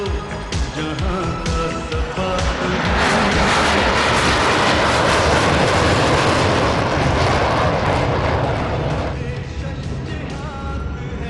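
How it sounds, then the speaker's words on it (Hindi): A Pakistan Air Force F-16 fighter jet performs a climbing pass over a parade venue at a Pakistan Day flying display, its loud engine roar swelling to a sustained peak and then easing. Faint announcer speech sits beneath it. "Ladies and gentlemen, demonstration of muscle climb by the F-16 aircraft."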